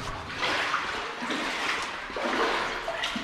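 Steady rushing water, a continuous loud wash with no pauses, close by and heard on its own.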